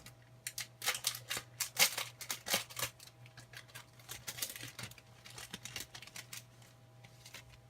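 Pokémon card packs being torn open by hand, with quick bursts of crinkly foil tearing and rustling, then lighter shuffling and handling of cards, close and fairly quiet over a low steady hum.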